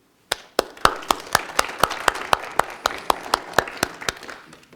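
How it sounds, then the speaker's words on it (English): Sharp, evenly spaced claps in a steady unison rhythm, about sixteen beats, loud and close, with no talking, from an audience at a school parent meeting. "I'd like you to applaud everyone in the room for achieving."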